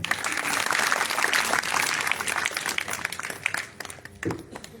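An audience bursts into sustained applause during a Kannada speech event, broad steady clapping that holds for several seconds before thinning out near the end.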